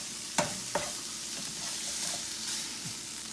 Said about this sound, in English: I was just heating the meat up, letting the onions saute a little bit.